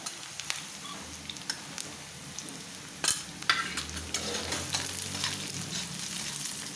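Onions sautéed with turmeric sizzle steadily in a pan for a radish-leaf vegetable dish, with scattered crackles and pops over a soft frying hiss and a brief stir-like clatter midway.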